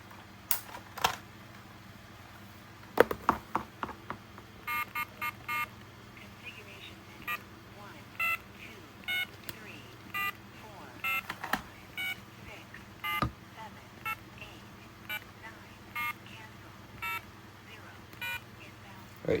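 DTMF dialing tones from an AT&T 210 telephone: a scattered series of short keypad beeps mixed with button clicks, moderately loud over a quiet background.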